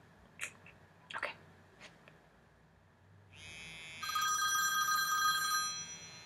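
An iPhone 'old phone' ringtone starts ringing, a bright trilling classic telephone bell that grows louder and rings steadily after a few soft handling clicks.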